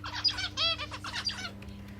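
Pet zebra finch and king quail kept indoors, giving bright, rapid chirps and tweets in a few short bursts over a steady low hum, close and fairly clear.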